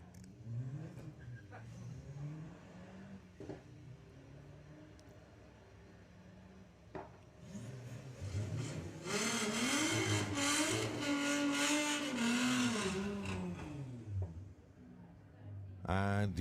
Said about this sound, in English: it's going to be the Audi A3 leaving first.